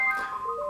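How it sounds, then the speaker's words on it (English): A mobile phone's ringtone sounds in a brief snippet of bright, warbling electronic tones, fairly loud and close, with no talking over it. "my phone is ringing"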